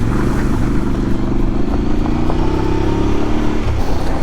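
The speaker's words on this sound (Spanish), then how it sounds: "Me da confianza esta moto" Motorcycle engine droning steadily while riding on the road, loud and close with constant wind rush, a slight shift in engine pitch partway through, and no talking.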